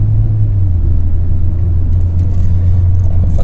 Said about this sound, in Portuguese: Retomar um pouquinho a velocidade aqui, daí eu faço uma redução para vocês verem.